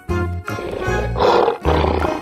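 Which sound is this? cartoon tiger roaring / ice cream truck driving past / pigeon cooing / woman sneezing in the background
cartoon tiger roaring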